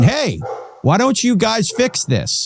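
A dog barks loudly and close by in a few sharp bursts, overlapping a person talking during a recorded interview conversation.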